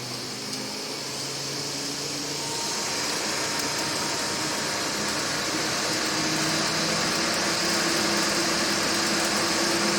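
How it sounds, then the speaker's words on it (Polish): A BMW air conditioning fan, fitted without its grille, runs with a steady loud whirring hum that builds slightly after a few seconds and then holds constant, close and without talk. "Wentylatory chodzą."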